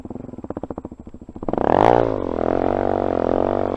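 A motorcycle engine attempting a donut chugs in rapid pulses, then revs up into a sustained loud roar that holds steady, close by and with no talking.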